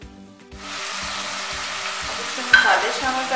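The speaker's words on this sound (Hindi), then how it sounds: "सारे गोश्त अच्छी तरह भून चुके हैं।" Meat sizzles in a pan with browned garlic, a steady close frying hiss that starts after a brief quiet moment and flares with a louder burst of stirring near the end.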